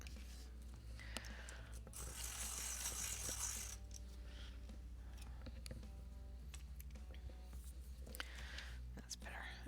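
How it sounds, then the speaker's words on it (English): A coloured pencil grinds in a small sharpener, producing a close, quiet rasping scrape with faint clicks over a low hum, and a soft voice murmurs alongside. "I'm going to sharpen this because it's not sharp."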